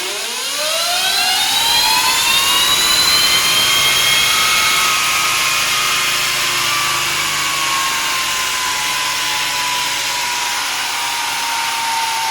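An electric Honda CRF motorcycle running on a dyno spins up with a rising whine and sweeping harmonics, then holds a loud, steady high-pitched roar through the rest of the run.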